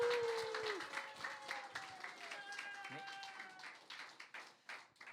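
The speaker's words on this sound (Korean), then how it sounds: "나오실 때 여러분들이 뜨거운 박수를 쳐주셔야 되겠죠?" A church youth-service congregation claps to welcome a new department teacher to the front, a steady patter of applause mixed with a bright sustained musical tone and light talking.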